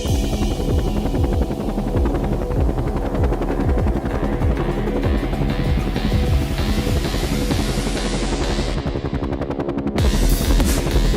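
A Coast Guard helicopter flies over a rough ocean in worsening hurricane weather, its rotor drone loud and steady with a dense rhythmic chop that holds throughout.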